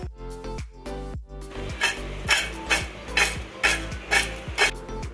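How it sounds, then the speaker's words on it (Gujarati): Crispy fried banana wafers tossed with pepper and salt in a bowl: a regular series of loud, close, crunchy rattling scrapes, about one every half second, with no talking. "અવાજ સાંભળતા જ તમને ખ્યાલ આવી ગયો હશે કે આપણી વેફર કેટલી ક્રિસ્પી બની છે"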